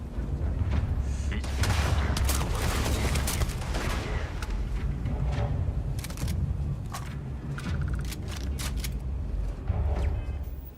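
Gunfire in a video game comes as rapid bursts of sharp shots, some single and some clustered, over a continuous rumble. A player talks during the shooting.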